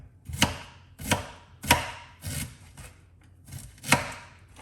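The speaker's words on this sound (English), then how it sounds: "So we're gonna cut up some fresh ginger" Knife chopping fresh ginger on a cutting board, six distinct sharp chops at an uneven rhythm, close and clear with no talking.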